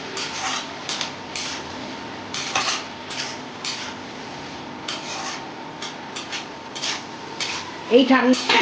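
Bottle gourd and prawns with green chillies being stirred in a pan, a close, dry scraping and clinking of a utensil against metal in uneven strokes, fairly loud, with no talk.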